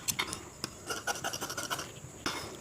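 Scissors snip through blouse lining fabric in a quick series of crisp, rasping cuts, close and fairly quiet, with a short pause before a final run of snips.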